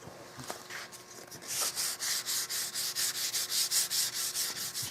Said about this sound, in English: First coat of finish has been drying about 48 hours. And that's why it's sanding so nicely.